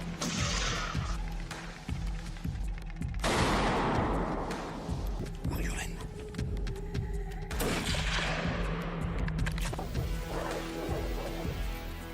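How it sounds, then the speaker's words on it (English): Two sharp, loud gunshots ring out in an autumn forest, each trailing off in a long echoing decay, with rustling and scattered thuds in between. "Another gunshot breaks the stillness of the autumn forest"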